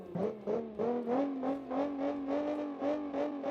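Loud 1960s sports car engine in a racing video game, revving hard with rapid rising and falling pulses as the car accelerates and shifts, close and continuous.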